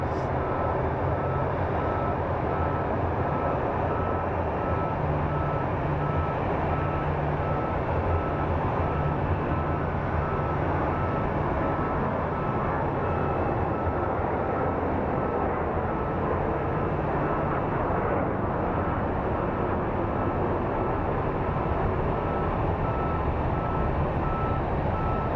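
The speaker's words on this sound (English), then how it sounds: "Nothing like hearing a backing up truck or whatever it is down there." A truck backs up below near Sky Harbor International Airport in Phoenix, its reversing beeps buried in a continuous, dense wash of distant engine and traffic rumble with no talking.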